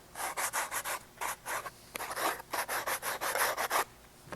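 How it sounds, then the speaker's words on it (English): A freshly bandsaw-cut panel template is hand-sanded to remove fuzz, giving a run of about a dozen quick, even rubbing strokes that are close and fairly loud, with no talking. "we'll just sand it a little bit to get the fuzz off here"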